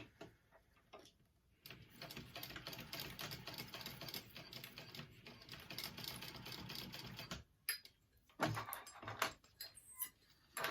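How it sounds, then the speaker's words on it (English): A sewing machine runs in a steady, fairly loud stitching burst, securing part of a Denver mini backpack, then stops before a few short bursts and handling clicks. "I'm just going to sew that there to secure it"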